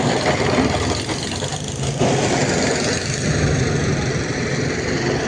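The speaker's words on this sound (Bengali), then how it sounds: "বাংলাদেশে জাহাজ যাচ্ছে" Large cargo ship's engine passing near Namkhana bridge in the Sundarbans, a steady loud mid-low rumble and drone with rattling texture continuing throughout, with wind and faint background voices.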